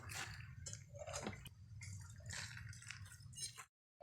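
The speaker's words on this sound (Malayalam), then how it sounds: "അപ്പോൾ നമുക്ക് ലൈറ്റായിട്ടൊന്ന് നനച്ചുകൂടെ കൊടുക്കണം" A potted begonia being lightly watered: quiet, close trickles and soft drips of water soaking into soil in short bursts, ending in a brief silence.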